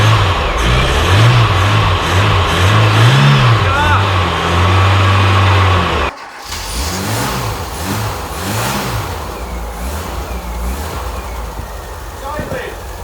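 A Volvo 340 left abandoned for 25 years cranks and rumbles loudly with a steady low engine drone, then briefly cuts out and picks up again in uneven revving bursts, with people talking over it.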